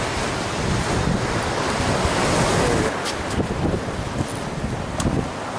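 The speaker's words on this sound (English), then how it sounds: "The ocean. This is Tateyama Beach," Ocean surf at Tateyama Beach in Chiba, a loud continuous roar of breaking waves mixed with heavy wind buffeting the microphone and no voices.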